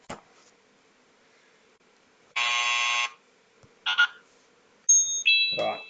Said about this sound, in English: we'll test the buzzers first